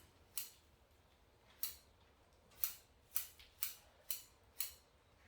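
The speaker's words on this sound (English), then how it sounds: "Trim away. These new scissors from the Bonsai online shop" New bonsai scissors trim a mallee-style bonsai tree, giving seven crisp, close snips at an uneven pace, the later cuts coming in quicker succession against a quiet background.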